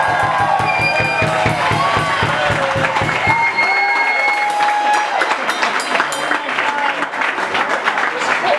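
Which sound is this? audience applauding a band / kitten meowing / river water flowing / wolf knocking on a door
audience applauding a band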